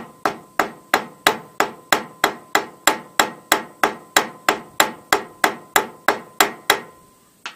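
Steady, evenly spaced metallic taps of a ball peen hammer cutting out a carburetor gasket, about twenty sharp strikes in a row at close range, each ringing briefly before the next.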